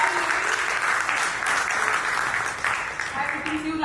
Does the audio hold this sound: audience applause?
yes